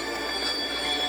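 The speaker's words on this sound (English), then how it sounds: "He applied his brakes and screeched to a halt." A steam engine braking to a halt gives a sustained high metallic screech of wheels on rail, loud and close for just over a second.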